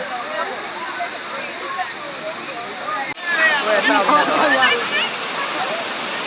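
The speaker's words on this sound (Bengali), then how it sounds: "এই হচ্ছে বামনি ফলের প্রথম স্টেপ।" Bamni waterfall in Purulia roars steadily as a loud, close broadband rush of falling water, swelling noticeably louder partway through as the listener draws nearer the first step of the falls.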